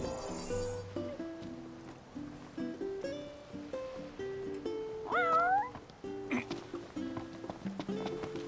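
A cat in the video game Final Fantasy XV gives one short rising meow over light background music and soft game sounds, with no talking.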